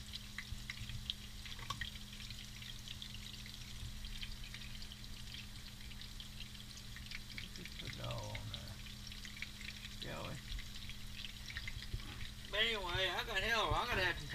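Venison sausage frying in hot grease for a Texas-style breakfast, a steady close crackle and sizzle running throughout, with a person talking intermittently over it.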